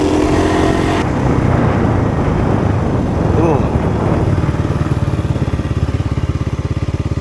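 A Kawasaki KLX 300R dirt bike engine drones loudly and steadily throughout, with wind noise early on, settling into a rapid rhythmic thrum toward the end as the ride continues.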